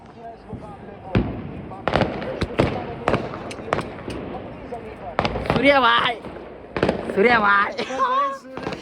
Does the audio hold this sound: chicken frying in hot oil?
no